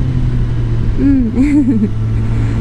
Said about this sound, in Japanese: このシフトダウンした時の音も結構ね 音がよくって